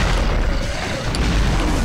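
Grenade explosions in the Devil May Cry video game, a dense, loud rumbling boom that fills the moment with little pause, heavy low-end blast noise throughout.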